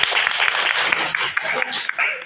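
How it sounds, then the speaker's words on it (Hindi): Classroom students clap in a quick, uneven burst of hand claps, moderately loud and close, with a teacher's voice speaking over the applause. "उनके लिए ताली बजा रहे हैं।"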